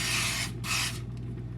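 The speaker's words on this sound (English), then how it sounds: "I'm just spraying it to put some parchment in it." Two quick hissing bursts of cooking spray coat a 9x13 baking pan up close, the second blast following a brief pause, with a faint hum underneath.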